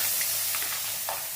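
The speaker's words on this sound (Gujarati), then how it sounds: "ડુંગળીને આપણે તેલની અંદર સરસ તળવા દેવાની।" Chopped onions fry in hot oil tempered with cumin, ajwain, asafoetida and turmeric, giving a brief, even sizzle with a few soft stirring scrapes.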